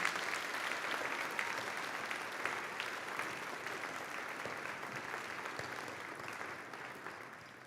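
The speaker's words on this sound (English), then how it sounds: "Can I please have a round of applause for all these amazing people?" An audience at a high school scholars' breakfast applauds steadily for several seconds, a fairly quiet, even wash of many hands clapping that slowly tapers.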